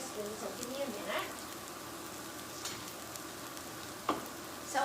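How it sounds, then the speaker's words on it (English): Onions sweat gently in butter in a pan, giving a quiet continuous sizzle with a few spoon scrapes and a clink near the end. The level stays fairly faint and even throughout. "So, okay, we're sweating these onions."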